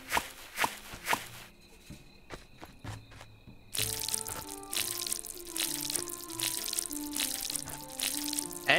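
Watering crops in the tavern-building game Ale & Tale Tavern: a soft splashing, pouring water sound that picks up after a few sharp footstep-like taps and continues steadily, layered with faint game music tones.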